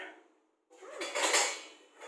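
A metal lid clinks and rattles against a cooking pot while black rice is being prepared, a close, bright scrape and clatter after a short silence.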